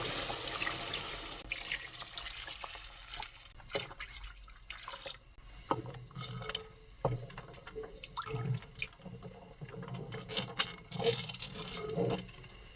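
Water is poured into a pot of braised beef with bones, giving a soft irregular splashing and gurgling with scattered drips and clinks, fairly quiet and close with no talking.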